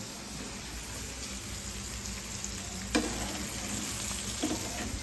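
Fish frying in a pan gives a steady, even sizzle throughout, with a couple of faint utensil clinks near the end and no one talking.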